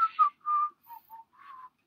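A person whistles a few short tuneful phrases alone and close up, four brief notes with small gaps between them.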